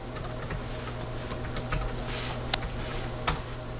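Username and password typed on a computer keyboard: a quick run of light, close key taps with a couple of sharper presses, alone with no talking.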